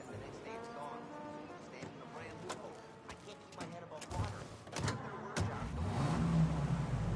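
A car drives in the video game Mafia Definitive Edition, its engine rumbling and building toward the end, mostly beneath a steady exchange of voices.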